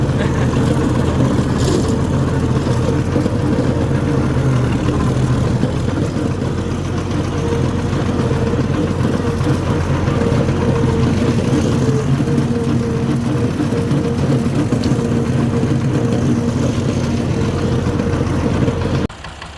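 Fordson tractor engine running steadily in fifth gear with the revs raised, a loud, continuous low rumble that holds for the whole stretch with no speech over it.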